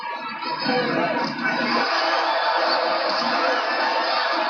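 A boxing arena crowd lets out a sustained, loud murmur of oohs and ahs after a left hand to the chest, with commentary talk running over it.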